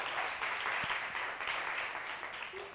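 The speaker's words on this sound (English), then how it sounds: "let's welcome Golden State Academy with a round of applause" Studio audience at a televised mental-arithmetic competition gives steady applause welcoming a visiting school team, a dense continuous wash of clapping from start to finish.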